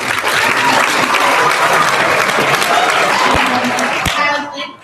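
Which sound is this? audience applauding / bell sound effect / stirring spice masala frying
audience applauding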